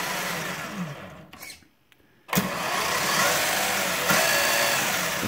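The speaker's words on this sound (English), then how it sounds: "You kind of hear the slop in it, the transmission, the rear end." A Tamiya Grand Hauler 1/14 RC semi truck whirs with a loose, sloppy transmission and rear end, geared fast, revving, cutting out briefly and then whining steadily again at close range.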